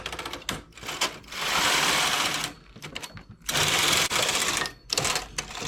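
A knitting machine works on a baby shawl, its carriage sweeping across the needle bed in rhythmic rattling passes, each a loud clattering burst of a second or so separated by brief quieter clicks, close and with no talk.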